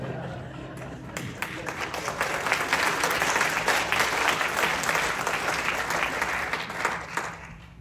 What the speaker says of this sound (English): Thank you for giving them applause.